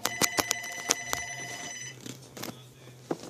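A telephone bell rings in several sharp bursts over the first two seconds, loud and close, then falls quiet, leaving faint room noise and a few soft knocks.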